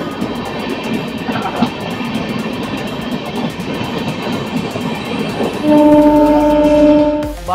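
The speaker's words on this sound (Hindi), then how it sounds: "अभी जस्ट क्रॉस हुई है अपने खड्डा में गोरखपुर नगड़े लोकल पैसेंजर ट्रेन" A Gorakhpur–Narkatiaganj local passenger train rumbles past at close range with steady clattering wheels, then a sustained horn blares loudly near the end.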